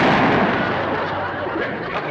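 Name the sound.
gunshot fired at a fox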